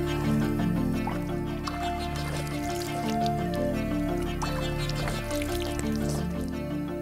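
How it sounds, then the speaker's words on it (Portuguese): Spring water wells up from the ground at a forest spring in the Serra das Confusões, Piauí, Brazil, with a steady, close trickle and drips running the whole time. "A água brota da terra"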